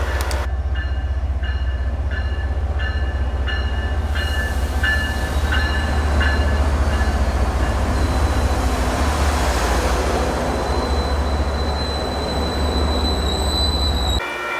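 MBTA Franklin Line commuter train, Keolis unit 709, rolls past steadily with continuous wheel and rail rumble, a metallic squeal and a faint horn-like tone near the start, loud and close throughout with no talk.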